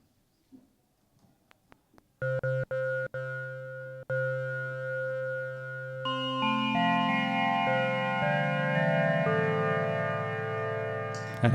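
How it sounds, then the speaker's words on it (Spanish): Behringer Wave synthesizer playing bell-like wavetable tones with a changed envelope: a few short plucked notes first, then sustained, overlapping chords that swell and shift in pitch, loud and alone with no talk. "Ahora sí vamos a cambiar un poco el envolvente."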